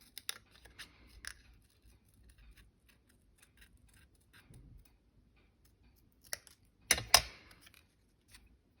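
Scissors snip paper in a few sharp, separate cuts, with quiet pauses and faint handling sounds between them, recorded close up.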